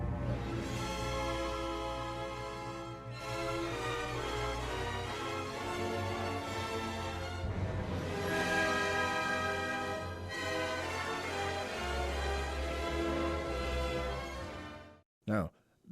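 An orchestra plays the prelude to the opera The Girl of the Golden West, a big chaotic flourish sweeping into sustained full chords. The music is loud and rich, runs continuously for about fifteen seconds and ends abruptly.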